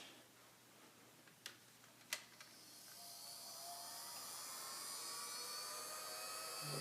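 A heat gun blowing hot air onto a wired remote control's LCD, with a steady rushing whine that swells and grows louder after a few light clicks and taps.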